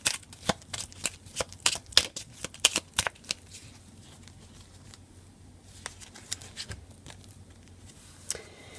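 Oracle cards from a small moon oracle deck being shuffled by hand: a quick run of soft, close riffling flicks and taps, denser at first, then sparser and quieter.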